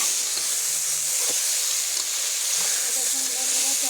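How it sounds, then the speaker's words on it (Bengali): Vegetable curry sizzles and fries in a pan while being stirred, a constant bright hiss with soft scraping of the spoon, close and moderately loud. "ভালো করে নেড়ে কষিয়ে নিতে হবে।"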